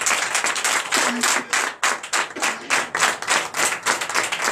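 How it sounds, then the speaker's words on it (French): A church congregation at a Sunday service in Benin claps in a strong, rhythmic pattern, loud, sharp hand strikes repeating in a steady beat with a few brief gaps, and no talk on top. "Donnez l'acclamation à Jésus."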